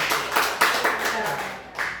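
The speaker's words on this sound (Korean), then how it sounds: "우리 하나님께 영광과 감사의 박수를 드리겠습니다" Short burst of congregation clapping during a church service, several distinct claps merging into a dense patter for two seconds, with voices faintly underneath.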